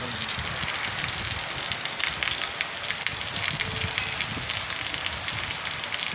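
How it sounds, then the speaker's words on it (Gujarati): Heavy rain driven by strong wind, a dense and continuous hissing roar with gusty surges, moderately loud and steady, with no voices. "કેટલો મસ્ત વરસાદ પડે છે"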